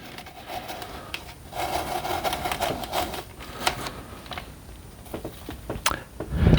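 A hollow-ground knife blade forced through material, giving a continuous close rasping, rubbing drag with uneven surges and a few sharper scrapes and clicks, heard alone without talk.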